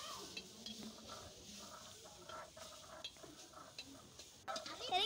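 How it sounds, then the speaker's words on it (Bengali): Taro leaves being fried in a wok: a quiet, steady hiss of frying with light stirring scrapes, and a few louder knocks near the end. "কড়ার ভিতরে ভালো করে ভেজে নিচ্ছি সবগুলো"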